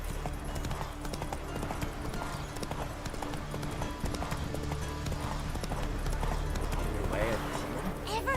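Roach the horse gallops in The Witcher 3, with a brisk, steady clip-clop of hooves running throughout. Game music and voices sit underneath.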